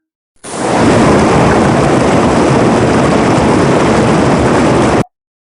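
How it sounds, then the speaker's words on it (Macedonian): A flowing river gives a loud, continuous rushing roar that holds steady for about four and a half seconds, with no speech. "Хајде да го слушнеме звукот на реката."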